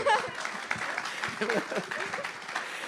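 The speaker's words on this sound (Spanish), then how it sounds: "Démele otro aplauso, por favor." Church congregation claps for a preacher during a sermon, uneven bursts of applause mixed with voices and shouts, louder at the start and then fluctuating as the clapping thins.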